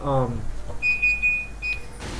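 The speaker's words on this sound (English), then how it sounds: "Oh, my alarm just went off." An alarm clock going off with a high, steady electronic beeping tone, near and clear, following a brief burst of other sound at the start.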